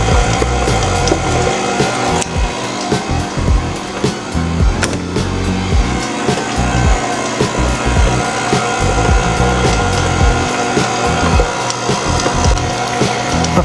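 A stand mixer paddle beats cheesecake batter in a bowl, giving a loud, continuous rattling churn with uneven knocks and scraping, close by and steady throughout.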